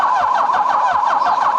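A 40-year-old motorcycle engine cranked without throttle, giving a steady pulsing churn with a warbling tone and rapid low thumps, loud and close, no talking.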